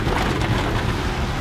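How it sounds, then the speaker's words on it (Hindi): Heavy rain pouring steadily in a hilly area, a dense continuous roar that is loud and close, with no voices. "धूमधड़ाका बारिश हो रही है,"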